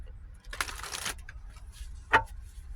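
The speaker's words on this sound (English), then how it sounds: "Let me shuffle." Tarot cards are shuffled by hand up close, giving a quiet riffling burst lasting about half a second followed by a few soft card taps and one sharper snap, with no talking.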